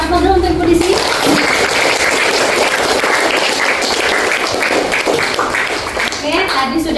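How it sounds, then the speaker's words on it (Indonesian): Applause from a classroom audience for a mother, Ibu Dismi, who has just finished a long explanation during a deep-learning teaching session; steady, dense clapping carries through the whole stretch after a brief voice at the start. "Kita beri aplaus dulu untuk Ibu Dismi."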